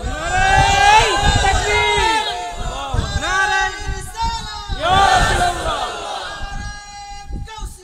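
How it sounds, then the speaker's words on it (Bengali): A large crowd at a Bengali religious sermon (waz) shouts takbir together, loud massed voices rising in repeated surges with a lone voice calling between them. "আর জবান খুলে একটা তাকবীর হবে জোরে।"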